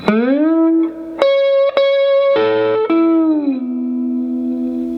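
A short slide guitar lick: sustained electric notes gliding smoothly between pitches, ringing out with a long fading tail, played alone.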